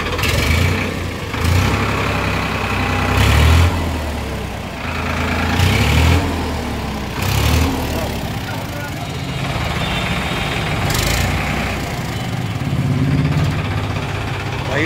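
A 50 HP Farmtrac tractor engine runs steadily during a test drive, a close, low rumbling idle with a few surges in intensity, over continuous background noise.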